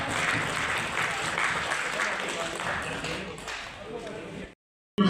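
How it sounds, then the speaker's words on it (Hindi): Conference attendees in Aurangabad, Maharashtra give guests a welcoming round of applause, a dense, sustained patter of clapping that fades slightly before stopping abruptly, with a brief burst resuming at the very end. "उनका तालियों के साथ स्वागत करेंगे।"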